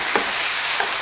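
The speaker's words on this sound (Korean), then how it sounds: "그래서 여기서 같이 섞어서 한쪽으로 밀어놨던 가지하고 양파 같이 넣어가지고 볶아주세요" Eggplant, onion and garlic stir-fry in a pan under a constant loud sizzle, broken by two quick spatula scrapes.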